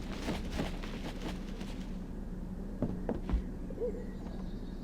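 Hedwig the owl hoots in the PS3 game Harry Potter and the Order of the Phoenix: a few soft, low hoots partway through, set against a steady game background ambience.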